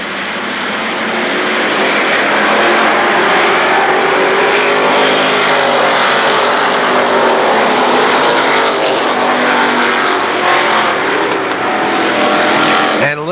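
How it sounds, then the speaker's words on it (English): A pack of race cars at Kil Kare Speedway's Labor Day Championships roars back to speed on the green flag, a loud sustained engine drone that builds and holds, with a commentator talking over it. "We pick up the throttle out turn 4. Green flag flies. We are racing once again."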